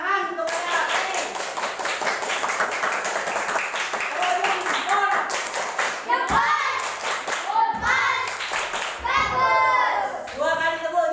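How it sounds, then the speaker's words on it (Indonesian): Elementary school classroom applause for a student, a steady patter of small hands clapping through most of the stretch while children's voices and an adult's speech break in over it. "Tepuk tangan untuk Learning."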